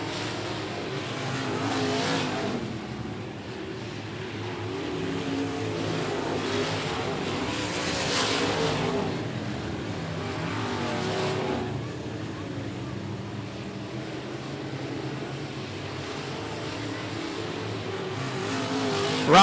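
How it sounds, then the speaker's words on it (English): Race cars roar around an oval at the 105 Speedway during a regular race program, engines droning steadily with swells as they pass, tire squeal mixed into the loud, continuous racing noise. "Tire screeching there for Higgins and Ryan Slott."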